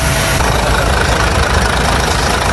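An Isuzu 6HK1 diesel engine in a Forward closed van runs at a loud, steady idle, a close, constant rumbling drone with no breaks.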